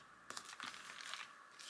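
Plastic bag crinkling as washi tape is pulled out of it, a few quiet close rustling and crackling bursts with brief pauses between them.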